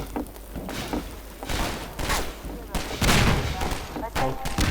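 Gunfire in the game Half-Life 2: dense bursts of rapid shots and thuds rolling on throughout, loud and busy, with a voice talking over the action.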